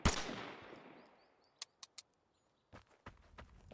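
Gunfire from the video game Vigor: a sharp opening shot trails off, followed by a quick cluster of three separate cracks and then a few more scattered shots, all fairly distant and fairly quiet.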